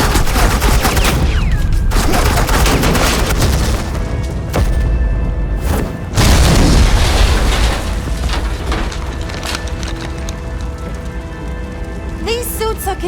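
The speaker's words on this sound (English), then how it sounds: "Suppressing fire." Suppressing gunfire in the video game Batman The Enemy Within, with dense, loud volleys and booms rolling on continuously and dipping slightly midway.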